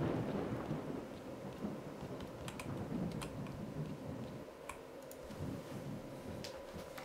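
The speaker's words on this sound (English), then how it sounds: "Dark and spooky and thunder and lightning?" Steady rain hisses with low rumbling thunder in a dark, stormy setting from the video game STALKER: Shadow of Chernobyl, with scattered sharp clicks and ticks over the continuous wash.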